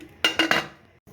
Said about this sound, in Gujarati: કુકરમાં હવે આપણે ઢક્કણ લગાવી દઈશું।